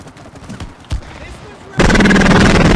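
Explosions in the video game It Takes Two, a sudden loud continuous blast of booming, crackling noise that takes over after scattered softer thuds and bumps.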